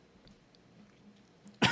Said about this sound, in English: This cough is so irritating.